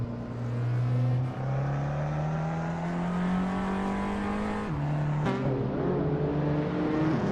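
A 2000 Acura Integra GSR in a racing video game, its engine note rising steadily as it pulls through a gear, then dropping at a quick shift and climbing again, loud and close with no talk.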